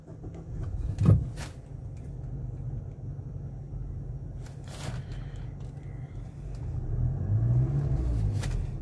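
A Mazda CX-5 with a Skyactiv engine idles smoothly after new spark plugs cure a cylinder 2 misfire, a low steady hum broken by a few brief clunks and knocks nearby.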